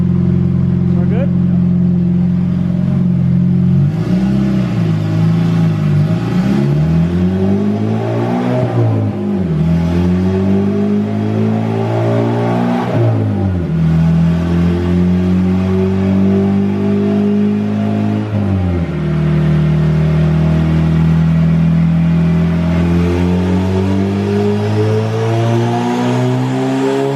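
A turbocharged B16 engine in an EG Honda Civic revs repeatedly on a dyno, loud and continuous, with pitch climbing and falling through several pulls and speech over it.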